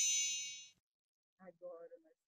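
A single bell rings out with a bright metallic ding that decays over about half a second, followed by a brief silence and then a short spoken word.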